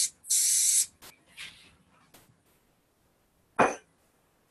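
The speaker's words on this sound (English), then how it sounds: "Give that a little spray." A spray bottle gives a loud hissing burst, then a few fainter short sprays, quiet gaps, and one more sharp spritz near the end.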